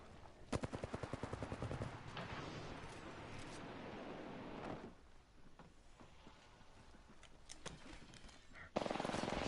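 Rapid video-game gunfire from a battle-royale firefight, a fast burst of evenly spaced shots early on followed by sustained loud crackling fire that drops away midway and returns with a sharp blast near the end.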